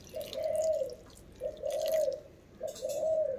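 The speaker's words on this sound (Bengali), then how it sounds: "গোলাপ জলটা দিয়ে দিচ্ছি" Rose water poured in three short, even streams over layered biryani in a pot, each pour a soft liquid trickle lasting under a second, close and fairly quiet.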